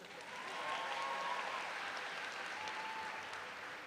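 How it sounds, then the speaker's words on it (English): A high school graduating class applauds at its commencement ceremony, a soft, distant wash of many hands clapping that swells early and holds steady, faint in a large space. "Can I get a round of applause from you guys especially?"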